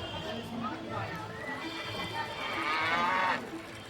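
A cow lows with a drawn-out moo that swells toward the end, heard close over background chatter and general commotion.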